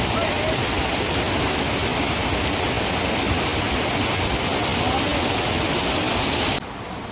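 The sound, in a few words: mountain river flowing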